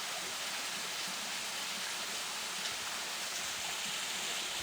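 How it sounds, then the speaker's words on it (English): A waterfall on a forested mountain trail near Sultan, Washington roars as a steady, even rush of white water, constant and unbroken, with no voices. "And that is a waterfall."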